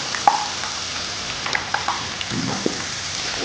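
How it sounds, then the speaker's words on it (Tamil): Soft sizzling of chopped cauliflower frying in masala for gobi keema, with scattered light clicks and scrapes of stirring. "காலிஃப்ளவர் ஆட் பண்ணி இந்த மசாலாவோட சேர்த்து வதக்கணும்"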